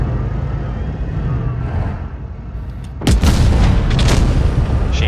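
A tank cannon shot in World of Tanks goes off with a sudden loud boom and a roaring tail, following a few seconds of steady low engine rumble.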